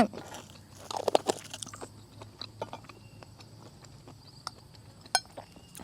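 Crispy pork rinds bitten and chewed alongside jaeng bong chili paste: loud, close crunches in a dense cluster at first, then quieter, irregular chewing crackles with a few sharp snaps, and no talking.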